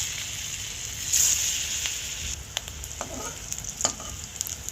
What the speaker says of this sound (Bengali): কড়াইয়ের মধ্যে তেল দিয়ে এগুলো আমি ভেজে নেব।